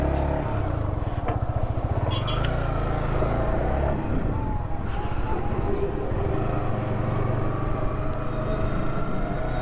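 A Yamaha R15 V4 motorcycle riding along a village road, a steady loud engine drone with wind rumble, continuous and close, with someone talking over it.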